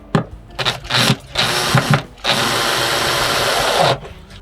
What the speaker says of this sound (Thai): ก็เจาะลงไปได้เลยครับผม